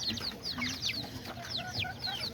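Chickens and chicks in a backyard pen, a steady jumble of high cheeping chicks and clucking hens, close and continuous with no talking.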